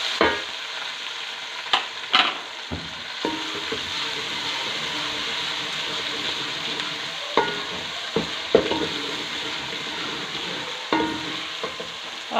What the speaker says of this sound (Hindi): इसके अंदर अब हम लहसुन अदरक का पेस्ट जो हमने बना के रखा था इसको डालेंगे और इसको अच्छे से फ्राई करेंगे